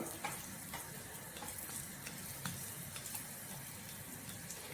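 Lump asafoetida frying in sesame oil for a sesame spice powder, a steady close crackling sizzle with faint stirring clicks throughout and no voices.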